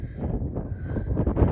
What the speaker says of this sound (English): A little windy up here, a little bit chilly.